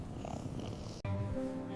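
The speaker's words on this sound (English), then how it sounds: "Yoda was no longer screaming, but purring in a steady rhythm." A cat purrs in a steady, close rhythm, soft and continuous, with a brief click partway through.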